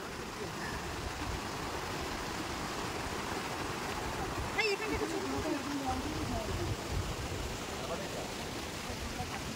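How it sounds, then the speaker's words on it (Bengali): A hill stream flowing, a steady close broadband rush of water that continues unbroken throughout, with a voice speaking faintly over it. "নদীর যে চলার আওয়াজ কুলকুল করে বয়ে চলেছে।"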